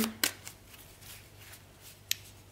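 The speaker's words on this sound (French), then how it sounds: "On va regarder avec l'oracle là s'il peut nous recouvrir un petit peu ces cartes-là." Oracle cards being handled and laid out during a card reading: a quick riffle and snap of cards near the start, light rustling, then another crisp card flick near the end, close and quiet.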